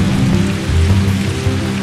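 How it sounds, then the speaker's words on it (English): Heavy, torrential rain pours down close by, a steady dense roar of drops drumming on a surface with no pauses or voices. "Torrential rain."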